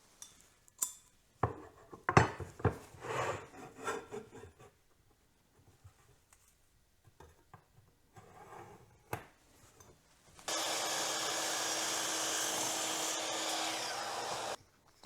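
Power saw cutting wooden pieces to the same length in a workshop, with scattered knocks and handling of boards early on, then a loud steady cut running for several seconds near the end.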